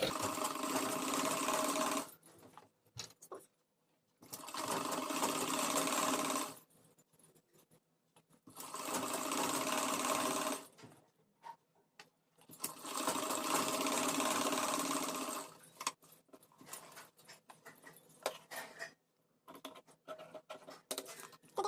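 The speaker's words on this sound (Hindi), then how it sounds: "इस तरह से रख के मैं सिलाई लगा दूँगी" Sewing machine stitching a frill onto the lower hem of a dress made from a saree, running in four long bursts of steady rapid stitching separated by pauses with small handling clicks and faint rustles.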